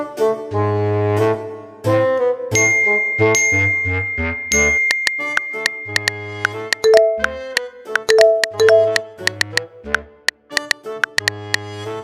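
A phone notification ding pings briefly among bright, tinkling chime tones over steady game background music in a school-life simulator drama, with no talk.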